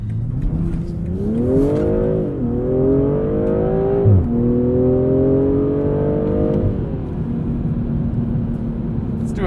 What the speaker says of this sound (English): I do like those little exhaust pops, even if they're a bit artificial.